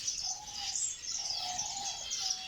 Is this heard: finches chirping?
yes